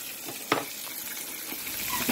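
Steady sizzling of chicken frying in hot oil, a continuous crackling hiss with occasional louder pops and clinks.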